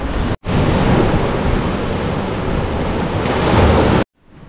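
Steady roar of ocean surf at Pemutih Beach in Bali, a loud continuous wash of breaking waves with some wind buffeting, briefly cut near the start and ending abruptly into quiet.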